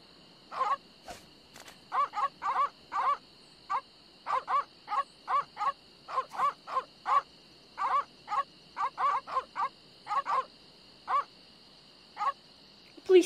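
Dogs in the Lucy Dreaming video game give a repeated series of short, whiny, yelping bursts, roughly two dozen evenly spaced cries over a steady electronic hum, with no talking.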